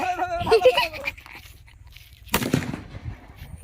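During village Holi revelry, a firecracker bomb blasts a bottle apart in one sharp, loud bang, followed by brief rattling debris, after a moment of yelping animal or voice sounds.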